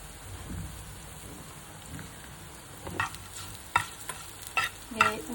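Fried potatoes tossed with turmeric, chili powder and salt in a pan, a soft background hiss broken by sharp clattering scrapes of the spoon that grow louder and more frequent in the second half, close with no talk.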